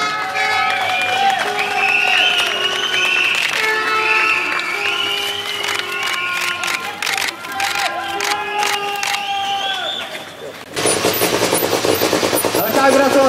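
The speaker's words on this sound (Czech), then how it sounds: "provází potlesk diváků a vašich fanoušků" Spectators and fans applaud and cheer a Peugeot 207 S2000 rally crew at the 30th Valašská Rally, a dense, sustained crowd clapping that grows sharper and louder near the end, with an announcer talking over it.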